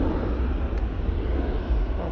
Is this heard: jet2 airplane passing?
yes